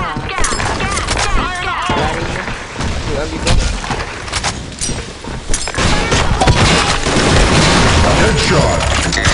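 Rapid gunfire bursts and booming shots from a shooter video game during a competitive match, loud and dense throughout, with players talking over the action.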